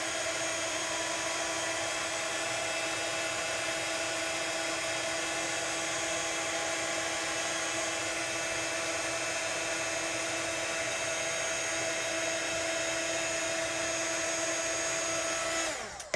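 An embossing heat tool blows over a stamped bow, a steady, close whirring hum with a bright whine held evenly throughout, cutting off at the end.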